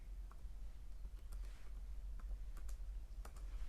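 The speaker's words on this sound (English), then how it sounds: "I'm typing in English again." Computer keyboard typing heard as quiet, irregular clicks and taps over a low steady hum, with no talking.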